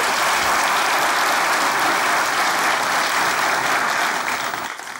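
A television studio audience claps in loud, sustained applause that holds steady and then begins to taper off at the very end.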